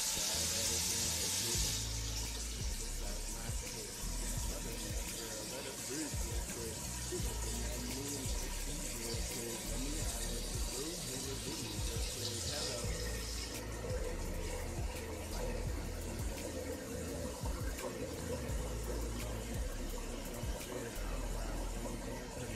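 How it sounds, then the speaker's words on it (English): Tap water running steadily into a large pan holding sweet potatoes in a home kitchen, a close continuous splashing fill whose tone shifts partway through as the pan fills. "Add some water."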